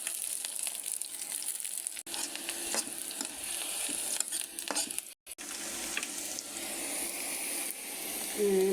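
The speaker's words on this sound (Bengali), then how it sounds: "রসুন কুচি মরিচ কুচি দিয়ে দিলাম।" Chopped garlic and chili fry in a pan. A quiet, continuous sizzle plays under scraping and stirring strokes, with one brief pause partway through.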